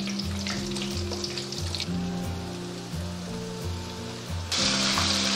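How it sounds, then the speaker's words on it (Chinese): Large pieces of chicken thigh deep-frying in hot oil for Taiwanese salt-and-pepper chicken, a second batch in the pan, giving a steady, dense, close sizzle and crackle throughout with no talk. "继续炸第2锅"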